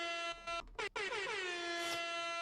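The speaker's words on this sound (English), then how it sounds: "Let's get some air horn action." A loud, blaring air horn blasts continuously, its pitch sliding downward midway through with brief stutters before holding steady.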